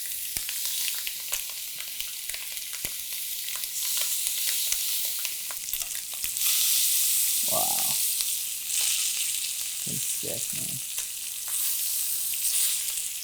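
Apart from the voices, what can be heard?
chicken thighs sizzling skin side down in a hot pan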